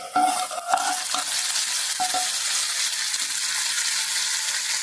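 Leafy greens from a home garden being flipped and fried in a pan for a dal dish, a steady bright sizzle with a few scraping stirs near the start.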